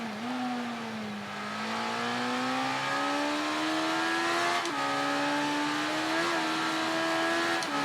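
Early-1990s motorcycle engine in the Ride 3 racing game, revving steadily at a high pitch that climbs slowly and holds, with a brief gear-change blip and no voices over it.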